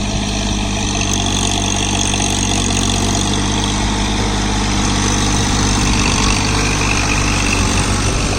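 The diesel engine of a John Deere 3028 EN 28 HP mini tractor, working in a puddled field, drones on at a steady, loud, close rumble with a slight swell near the end and no talk.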